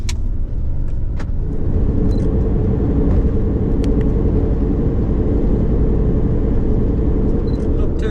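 A camper van drives on the road, its steady low rumble of engine and tire noise filling the cabin from inside, with occasional faint clicks and rattles over the constant drone.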